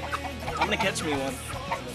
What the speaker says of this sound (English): I'm gonna catch me a chicken.